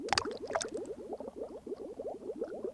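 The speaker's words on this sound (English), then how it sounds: "let's drop the egg in the tank" In the Seaman video game on the Sega Dreamcast, an egg is dropped into a water tank, followed by a quick run of close, rapid bubbling and gurgling water sounds.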